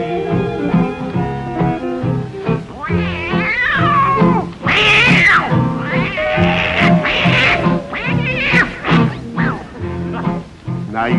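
A human voice imitates tomcats fighting and caterwauling, with loud, drawn-out yowls, wails and screeches that rise and fall in a rapid series, alone and up close.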